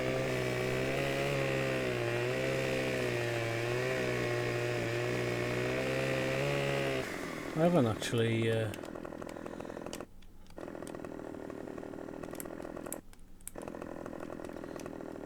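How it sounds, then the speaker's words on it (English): A chainsaw in Farming Simulator 2015 drones steadily for several seconds, then revs and cuts off, leaving a quieter hum while someone talks over it. "it's just up on the D-pad to bring out the chainsaw"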